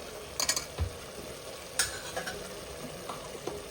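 Ginger garlic paste stirred and fried in a pan for nalli elumbu bone soup; a soft constant sizzle runs beneath a few sharp clinks and scrapes of a spoon against the metal pan.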